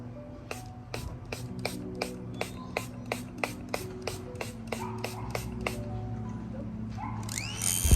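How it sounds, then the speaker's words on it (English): Classic Mix and Fix setting spray misted onto a face in a long run of about sixteen short, even pumps, each a crisp hiss close to the mic, with no talking. "So this is my Mix and Fix by Classic, and this has been doing a lot of wonder. So I'm just going to spray like this."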